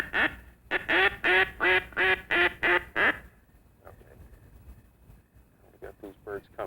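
Ducks quack in rapid loud bursts, about eight evenly paced calls close by, then fainter scattered quacks before another quick burst of calls, heard during a duck-hunting scene.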